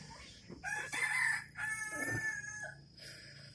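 A hen makes a few drawn-out clucking calls close by, in two or three bursts with short pauses, against a quiet background.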